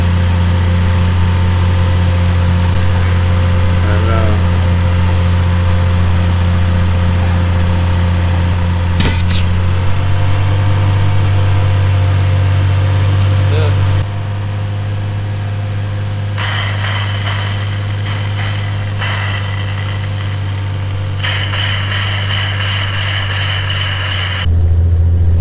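A steady Infiniti G35 engine drones at just under 2,000 RPM with a low, constant hum and vibration. A sharp click cuts in partway, and the tone shifts slightly later on, with no talking.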